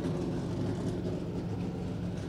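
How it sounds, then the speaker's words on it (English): A NASCAR race car sits in the garage at Kansas Speedway with its engine running, a loud, steady low rumble close by that holds constant without pauses. "That sound, the sound of a NASCAR race car in the garage."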